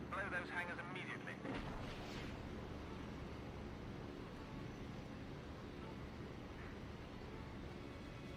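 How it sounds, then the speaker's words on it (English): Dull explosions and rumbling blasts from an enemy plane bombing hangars at an airfield in the Secret Weapons Over Normandy game, a few heavy bursts early on and then a steady rumbling din throughout. "Ein feindliches Flugzeug bombardiert unser Hangars auf dem Flugplatz."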